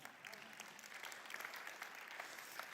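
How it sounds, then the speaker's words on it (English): A room of workshop attendees applauding themselves, a soft steady patter of clapping heard from a distance, with a voice briefly audible near the start. "Give yourselves a round of applause."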